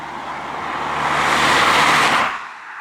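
A MINI Clubvan car driving on twisty roads, its engine note swelling loudly into a sustained rush with tire noise around the middle before easing off toward the end, no talking.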